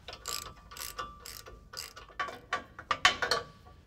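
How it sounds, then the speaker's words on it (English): A torsion bar tool unloading the torsion bar on a Chevy Silverado during a 6-inch lift kit install, giving a close series of quick metallic ratcheting clicks in short bursts, with no talk. "Using this torsion bar tool, you can take out the adjustment stop and then unload the bar."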